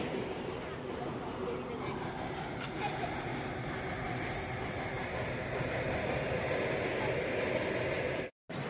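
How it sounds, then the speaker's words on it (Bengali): A freight train rumbles past beside a riverbank in a steady, dense roar that fills the scene, with voices faintly audible beneath it. "বেরিয়ে চলে গেল ট্রেনটা, মালগাড়িটা।"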